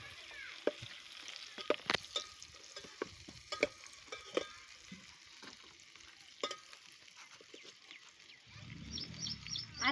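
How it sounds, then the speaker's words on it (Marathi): Stuffed eggplants are frying in oil over a village wood-fired stove, with a steady low sizzle broken by repeated clicks and scrapes of stirring; a louder, rougher bubbling burst swells near the end. No one speaks. "आपल्याला तेलात फ्राय करायचे"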